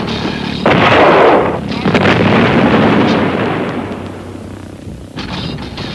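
Anti-aircraft guns firing shells with radio proximity fuses in wartime: loud, heavy booming bursts that roll into a long rumbling wash and fade, with a fresh blast near the end.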